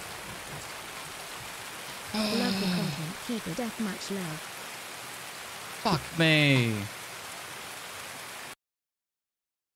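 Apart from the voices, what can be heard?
rain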